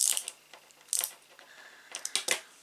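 Small clicking ratchet-like turns and light metallic ticks as a screw is tightened on a Citroën Type H scale model, close and fairly quiet, coming in short irregular bursts.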